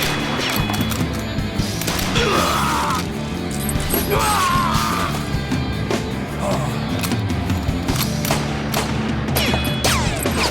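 Rapid gunfire in a PS2 role-playing game, repeated bursts and cracking shots ringing out continuously over a busy background of mechanical clatter, impacts and music across the whole stretch, with no single quiet gap.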